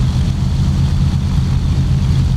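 The engines of a Junkers Ju90 aircraft in the Flight Simulator X video game produce a loud, steady, low propeller drone. It holds constant throughout, with no talking over it.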